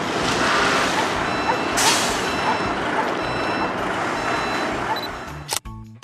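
A tow truck beeps repeatedly while reversing over a loud, steady rumble of engine and outdoor noise, followed by a brief clatter near the end.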